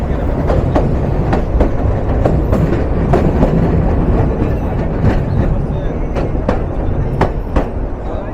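A Dinajpur-area local commuter train on the Rangpur to Birol route rumbles loudly on the rails, with a steady, heavy roar and clickety-clack wheel beats recurring through the ride.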